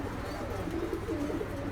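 Saharanpuri pigeons coo softly at close range, a steady low murmuring run through a short stretch with no talking.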